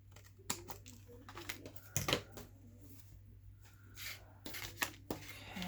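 Scissors cutting paper for a collage board, a few close, crisp snips and rustles scattered over a quiet low hum.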